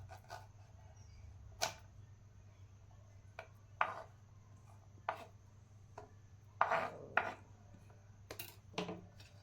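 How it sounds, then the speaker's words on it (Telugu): A kitchen knife chops a carrot into small pieces on a board for juice, sharp separate thuds spaced irregularly a second or two apart, close and clear with no talk. "తర్వాత చిన్న చిన్న ముక్కలుగా కట్ చేసుకోవాలి క్యారెట్ని"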